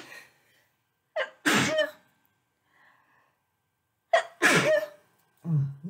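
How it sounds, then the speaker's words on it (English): A single loud, close sneeze with a sharp intake of breath bursting into a forceful burst, then a second sneeze a couple of seconds later, each followed by quiet breathing, in a room during a watercolor swatching session. "I'm going to sneeze."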